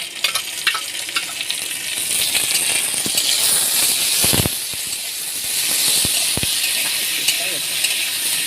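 Potatoes and taro frying in a pan with ginger-garlic paste and spices, a continuous bright sizzle and hiss with occasional stirring clinks, close and fairly loud while a voice talks intermittently.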